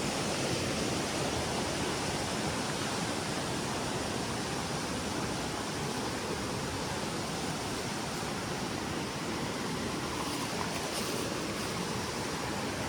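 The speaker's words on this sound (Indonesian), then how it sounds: "Ini adalah Curug Pangantennya ya." Curug Panganten, a waterfall on a jungle river, roars as a steady, loud, unbroken wash of falling water that holds constant throughout with no voices.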